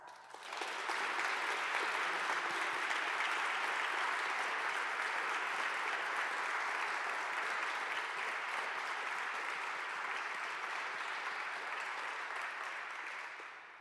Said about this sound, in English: I invite all of you to recognize these outstanding students with your applause.